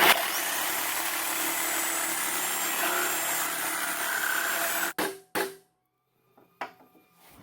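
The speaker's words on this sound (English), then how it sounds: "opposite of the keyway, I'm gonna just cut the steering wheel" A power tool cuts through the steering wheel of a 1966 Sears Suburban 10 tractor, a loud, steady grinding roar for about five seconds that cuts off abruptly, followed by a few scattered knocks and handling sounds.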